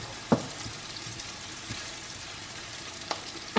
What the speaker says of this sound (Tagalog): Igigisa na natin tong onion.